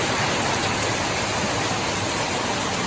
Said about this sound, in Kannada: ಅಷ್ಟು ಜೋರು ಬರ್ಸ ಬರೋಂದುಂಡು ಮೂಲು